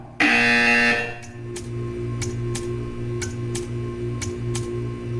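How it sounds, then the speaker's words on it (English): A harsh electronic buzzer in Portal 2 blares for under a second, then fades into a steady series of soft, evenly spaced ticks. "You will hear a buzzer."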